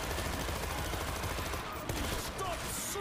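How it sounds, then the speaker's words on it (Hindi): Heavy machine-gun fire rattles in a dense, unbroken stream in the video game World War Z, loud and close, with faint game sounds breaking through near the end. "हैवी गन यूज करनी पड़ रही है हमें, यहाँ पे इतने बंदे आ रहे हैं ना।"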